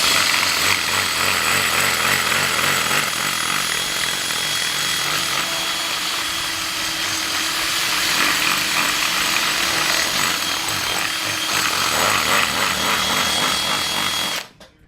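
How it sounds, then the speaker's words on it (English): A power drill bores out a hole while installing a 2-step launch control on a 2020 Camaro SS, the loud steady whirring and grinding continuing almost the whole time and cutting off abruptly near the end, with no talking. "I'm just kind of going along the sides as I'm drilling and hoping it fits."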